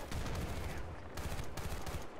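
Grenade blast in the video game Battlefield: a dense, loud burst of explosive noise that stays heavy for about two seconds, with gunfire-like crackle layered through it and no speech.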